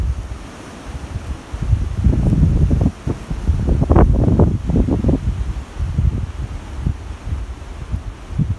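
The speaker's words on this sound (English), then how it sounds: "Here comes a big gust." A strong gust of wind roars against a Howling Moon 270-degree swing awning at a campsite, swelling into loud buffeting flaps and rustling of the canvas before easing back to a steady blow.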